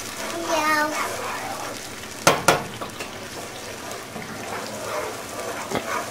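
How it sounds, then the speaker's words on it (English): Soft, steady sizzling of sofrito (green peppers, onions, garlic, cilantro) frying in oil, with a couple of sharp clatters midway and faint background murmur. "some of this oil will dry up because it's frying up this sofrito"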